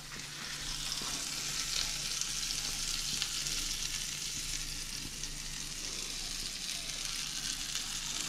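Thin pancake batter cooks in a preheated pan with an even, continuous sizzle that holds steady at moderate loudness throughout, with no talking.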